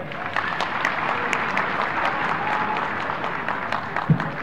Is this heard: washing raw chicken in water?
no